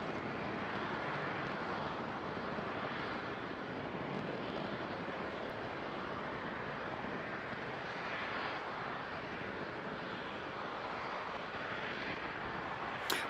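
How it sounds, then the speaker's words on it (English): A SpaceX Falcon 9 rocket climbs on its nine Merlin engines, heard as a steady, distant broadband roar with a faint rumble, continuous and even for the whole span, without talk. "Vehicles pitching downrange as all 9 Merlin engines continue to perform well"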